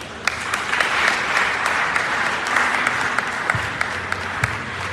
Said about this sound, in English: And put our hands together again.